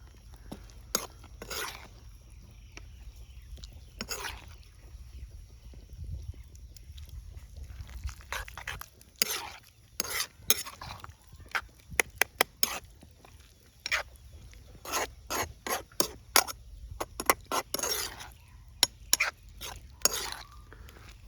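A spoon stirring carrot halwa in a pan, with intermittent scraping and clinking strokes in irregular bursts over a low simmering bubble, close by and moderately loud, no talk.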